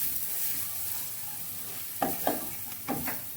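Masala cooks in a pan with a steady sizzle throughout, then a few quick stirring scrapes land close together over the last second and a half, with no voices.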